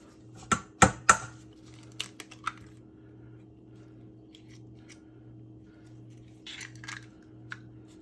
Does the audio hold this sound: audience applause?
no